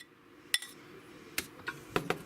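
A spoon stirs broccoli salad in a bowl, producing sparse, distinct clinks and knocks against the dish with soft scraping between them, quiet and close.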